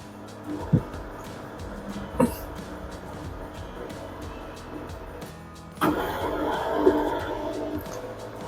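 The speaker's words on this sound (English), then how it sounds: "drum already start to rotate" A washing machine with an E33 error has its motor and drum start up partway through, following a couple of isolated clicks, then settle into a steady, moderately loud whirring rumble.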